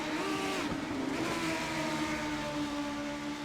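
Formula Fun Cup race cars roar steadily around a track, their overlapping engine notes forming a continuous droning whine with no pauses and no voices.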